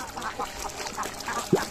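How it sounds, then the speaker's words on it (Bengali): Ducks on a flooded village road after heavy rain give faint, scattered quacks over a soft watery background, with one louder call near the end. "এখানে হাঁসগুলো রাস্তার উপরে পানি ওঠার কারণে"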